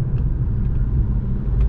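A Volkswagen Golf 4 R32 engine runs at a steady 3000 rpm, giving a low, smooth, continuous rumble heard close from the car, even in level and with no talk over it.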